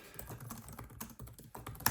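Typing on a Lenovo ThinkPad X9 14 Gen 1 laptop keyboard, a quick, close run of soft, muted key clicks at an even pace, heard alone at low volume.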